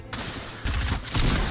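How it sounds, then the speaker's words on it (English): Gunfire in a battle royale video game, a few quick bursts of shots in close succession, moderately loud against a busy game background. "Now I'm getting shot from another direction."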